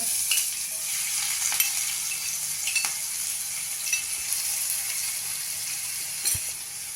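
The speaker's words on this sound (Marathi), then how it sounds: "आता आपण जे हिरवी मिरची लसूण आणि आलं तुकडे करून घेतलेले आहेत तेही घालूया त्याच्यावर" Green chili, garlic and ginger sizzle in hot oil with cumin, a soft, steady hiss with occasional crackles and faint stirring clicks, quiet and close with no voices.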